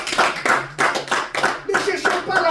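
Church congregation clapping in unison, a strong regular beat of about two claps per second, close and loud, with voices mixed in.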